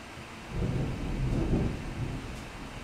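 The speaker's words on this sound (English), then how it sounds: "Some pretty heavy rain coming in right now" Low rolling thunder swells and rumbles over steady, heavy rain.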